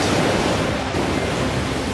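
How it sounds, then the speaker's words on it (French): Crashing ocean waves as a sound effect, a broad, steady roar of surf with hissing spray, loud and unbroken, with no voices. "L'océan était cruel. Les vagues imposantes s'écrasaient"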